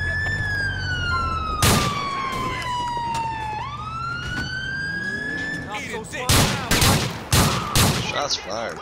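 Gunfire in the police video game LCPD:FR: a wailing siren sweeps up and down, then loud, sharp shots crack out in a rapid cluster near the end.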